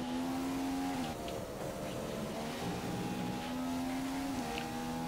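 Formula 1 car in the F1 2015 video game taking a corner in Australia, a loud continuous engine whine that dips and climbs through the gears and holds steady throughout.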